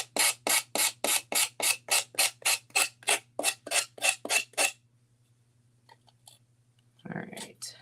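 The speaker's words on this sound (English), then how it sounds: "I love this little gator sander because it kind of just gets into everything." A Gator detail sander works a surface in about sixteen rapid, evenly spaced rasping strokes over a steady low motor hum. The strokes stop abruptly, leaving near silence before a short rustle at the end.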